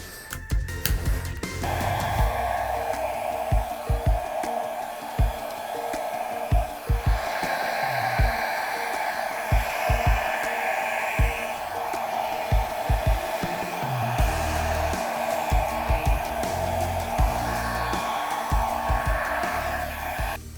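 Hair dryer blowing steadily across acrylic pour paint, a continuous airy roar close by with faint intermittent knocks and bumps underneath.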